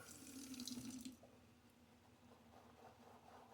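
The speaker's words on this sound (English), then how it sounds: "I just added some water." Water pours from a tap for about a second, a bright gushing splash, then cuts off, leaving quiet trickling and faint handling sounds.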